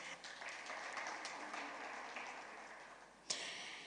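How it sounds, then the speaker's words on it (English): Audience applause at a business forum session on carbon markets in Africa, a soft, distant-sounding wash of clapping that holds steady, with one sharper knock near the end. "Let's give her a round of applause."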